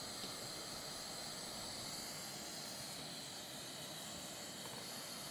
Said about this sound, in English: here is the stove burning on kerosene